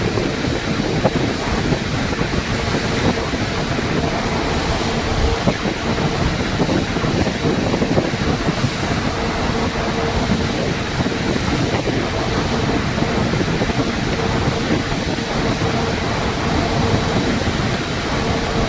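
Steady, loud rushing of sea water and surf from a ship near Matnog, Bicol, with heavy wind buffeting the microphone, continuous throughout with no voices.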